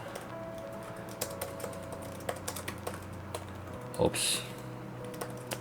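Keys clatter steadily on a Redmi tablet's keyboard, a run of close, quick, light taps with one short voiced exclamation near the end.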